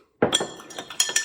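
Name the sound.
Luxardo cherry dropped into cocktail glass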